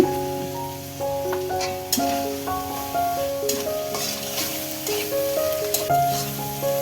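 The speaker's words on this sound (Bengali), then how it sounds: "একটু টমেটো কাঁচামরিচ পেঁয়াজ সব কিছু ভাজা হয়ে গেছে" Tomatoes, green chillies and onions frying together in a pan, a steady close sizzle with occasional stirring taps, under background music.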